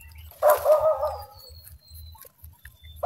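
A dog barks once in a short burst, fairly close, then only faint low rumbling background noise remains with no talk.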